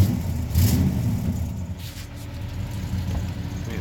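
A GM car engine, previously locked up and now smoking, runs steadily with a loud rev swelling near the start before settling back to an even mid-pitched drone, with no talking.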